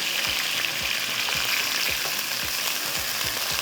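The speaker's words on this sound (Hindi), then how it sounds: "यहाँ पर मैं इसको थोड़ा सा चिकन को फ्राई करूँगी यहाँ पर गरम मसाले के साथ" Chicken frying in a pan with garam masala for pulao gives a steady, bright sizzle, with regular low scraping knocks from stirring about twice a second and no talk.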